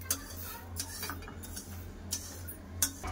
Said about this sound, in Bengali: ডাল ভাজা হয়ে গেছে, ডালটা ঢেলে নেবো।